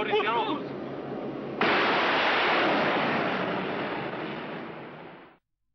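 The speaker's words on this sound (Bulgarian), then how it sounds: "Видяхме изстрелването на една ракета" Military rocket launch by a Bulgarian rocket artillery division: a sudden loud roaring blast that sustains as a broad rushing roar for several seconds, then cuts off abruptly, following a brief shout.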